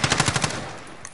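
Rapid automatic gunfire from a PS4 shooter game, a quick burst of about six close, punchy shots that fades out into a brief quiet tail.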